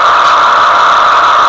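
The small electric motor of a CN SD70M-2 model locomotive hums steadily and smoothly, a constant whirring drone with faint rattle, close and unchanging throughout.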